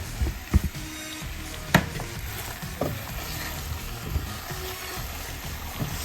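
Chicken and sausage jambalaya sizzling steadily in a pot while being stirred, with a few scrapes and knocks of the spoon against the pot and no talking.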